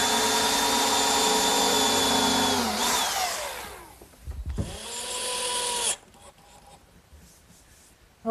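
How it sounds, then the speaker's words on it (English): Power drill whining steadily as it bores and countersinks screw holes in wood for a sandbox, with its pitch winding down, then a second shorter burst before it stops, close and loud. "Now I'll just drill and countersink for the screws"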